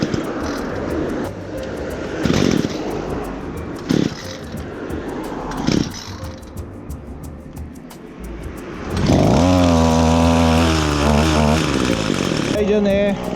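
A small two-stroke brush cutter engine, freshly refuelled after restoration, is pulled over several times with brief sputters, then catches and runs steadily at a loud, buzzing idle with some revving.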